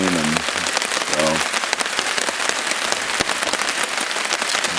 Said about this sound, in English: tarps are pretty loud in the rain